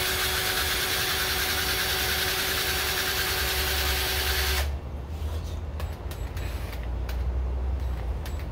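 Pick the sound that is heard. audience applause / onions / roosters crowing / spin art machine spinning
spin art machine spinning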